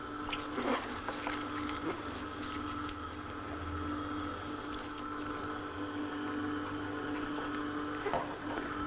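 A C8000 juicer presses light leafy greens pushed down with a plunger, giving a continuous low motor hum with soft squishing and dripping over a steady background, without speech.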